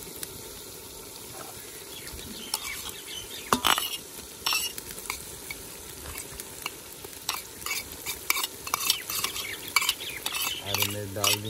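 Green chillies are stirred into a pot of village-style matar pulao over a steady sizzle. A metal spoon scrapes and clinks irregularly against the pot throughout, close and fairly loud.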